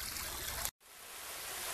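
Water trickling from a small outdoor waterfall, a steady close hiss of running water that cuts out abruptly for a moment and then gradually returns.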